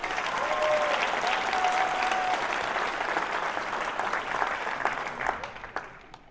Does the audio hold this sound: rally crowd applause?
yes